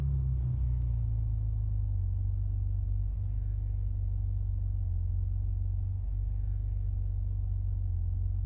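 A simulated car engine in the Assetto Corsa racing game runs at 6,500 RPM under full load, a steady, low, even drone that holds without breaks.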